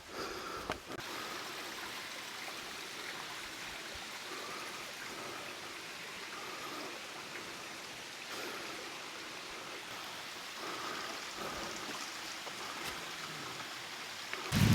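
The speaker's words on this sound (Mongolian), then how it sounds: "амар ширүүн бороо ороод эхэлчихлээ шүү" Heavy rain falls during a thunderstorm with a steady, fairly faint outdoor hiss of downpour that runs on without pause.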